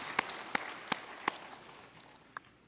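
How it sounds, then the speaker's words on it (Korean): A church congregation claps during a Sunday worship service. Faint, sharp claps land in a slow, even rhythm, about six of them, spaced under a second apart against a quiet room. "영광의 박수를 하나님께 드리겠습니다"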